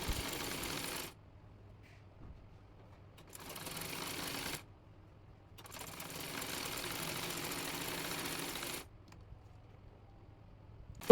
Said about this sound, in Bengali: জয়েন্ট সেলাই করে নেব। চাপ সেলাই দিয়ে নেব।